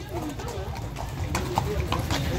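Horse hooves clop steadily on a village street during a horse parade honoring a patron saint, a busy mix of hoofbeats under crowd noise and nearby voices.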